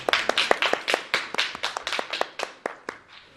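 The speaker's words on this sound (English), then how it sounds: "Let's have a round of applause for them." A small group claps in a quick, slightly uneven rhythm, about a dozen sharp close hand claps in just over three seconds, trailing off at the end.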